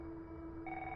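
A phone vibrates in a character's pocket in the video game Celestial Return, a short steady electronic buzz that rises in pitch partway through, held evenly for about a second over low background drone.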